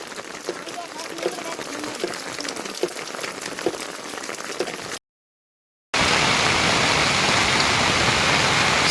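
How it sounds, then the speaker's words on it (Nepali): Heavy monsoon rain in Nepal's Himalaya pours down as a dense, loud, steady hiss of drops. It cuts out briefly, then returns even stronger. "पानी परेर एकदम हेभी रेनफल"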